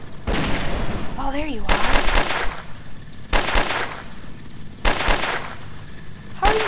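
Loud bursts of automatic gunfire from the shooter game STALKER Lost Alpha, set in Cordon, come in three or four separate volleys close up, each lasting about half a second to a second, with someone talking between them.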